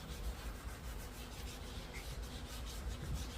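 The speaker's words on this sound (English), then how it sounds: "Cleaning my valve seats, cleaning the carbon off of them so I can inspect them." A Scotch-Brite pad scrubs carbon off engine valve seats in a Brodix cylinder head, kept soaked with WD-40, giving a steady, close, continuous abrasive rubbing with no talking.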